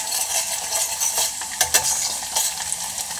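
Mustard seeds and cumin frying in hot oil for a Telugu gongura pickle, a close, loud crackling sizzle with quick popping bursts and faint stirring scrapes.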